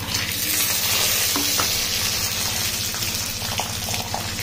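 Curry leaves and peanuts frying in oil for a breakfast dish, giving a steady, loud, continuous sizzle with faint clinks of stirring and no talk.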